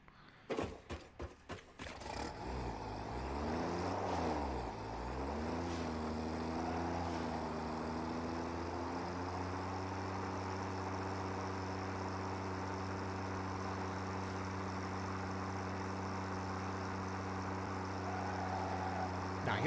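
A tractor engine in a video game starts with a few sputtering coughs, then settles into a steady low droning hum that runs on evenly and fairly quietly.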